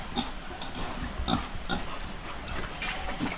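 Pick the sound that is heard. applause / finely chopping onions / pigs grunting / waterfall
pigs grunting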